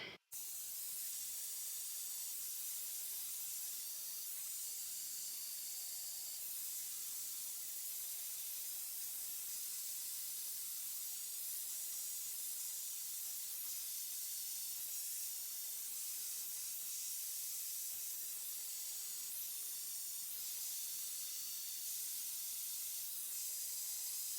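A hair dryer runs on high airflow at a medium heat setting while drying curly hair, giving a steady, unbroken airy hiss that stays level and close throughout.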